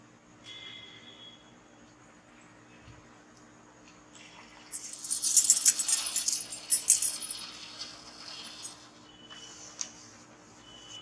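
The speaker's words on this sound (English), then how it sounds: "The sanitizer will come automatically and the paper also distributed automatically." An automatic exam paper distributor dispensing a sheet, a burst of mechanical whirring and rustling paper near the machine that rises, holds for a few seconds and fades over a steady background hum.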